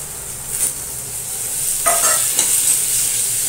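Boiled, salted amaranth stems tossed in a pan with sesame tilkut and black sesame chutney give a steady close sizzle, broken by a few scraping stirs of the spatula, with no talking.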